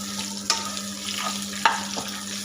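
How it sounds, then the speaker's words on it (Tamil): Cut bitter gourd sautéing in a spoonful of oil, a close, even sizzle with a steady low hum underneath and a couple of sharp spoon clicks against the pan. "1 ஸ்பூன் எண்ணெயை விட்டு நம்ம கட் பண்ணி வச்சுக்கிற பாவக்காவை சேர்த்துக்கலாம்."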